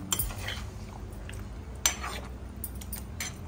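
Chicken stirred in a pan for lemon chicken, with a utensil scraping and clinking against the metal in steady irregular strokes and a sharper knock near the middle, fairly quiet and close.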